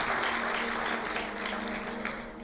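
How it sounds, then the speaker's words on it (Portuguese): A church congregation claps loudly and steadily, a dense, continuous wash of applause filling the whole moment with no voices. "Você pode dar um aplauso bem forte ao Senhor?"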